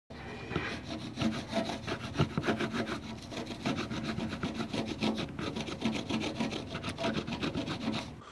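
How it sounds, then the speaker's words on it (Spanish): Piece of wood scraped back and forth over rusted chrome, a close, fairly quiet rhythmic rasping in quick repeated strokes that continues steadily throughout. "para quitar el óxido, debes rasparlo con algo suave como un trozo de madera"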